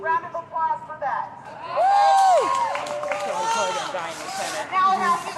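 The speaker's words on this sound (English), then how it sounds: "Round of applause for that." A protest crowd in Portland cheers and claps, swelling into loud shouts and whoops near the middle before settling into scattered cheering and chatter.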